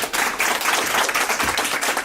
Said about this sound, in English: Give Kara a round of applause